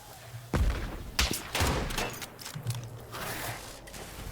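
Sniper rifle shots in the video game Nightingale, several sharp thumping reports spaced irregularly among clanks and mechanical handling noises, moderately quiet with faint background tones.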